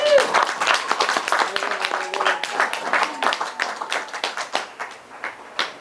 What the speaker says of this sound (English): I can ask for a quick round of applause for Olelo for what they're doing